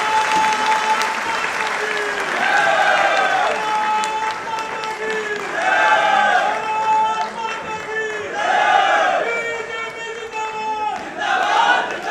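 Loud, sustained applause from an auditorium audience at a book launch ceremony, dense clapping swelling in waves, with tonal voices or sounds rising over it.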